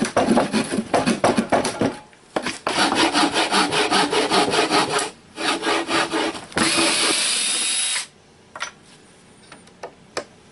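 A hand saw rasps back and forth through the wooden legs of a log slab bench in quick, steady strokes. It pauses briefly, resumes with a sustained rough grind, then ends with a few scattered taps and scrapes.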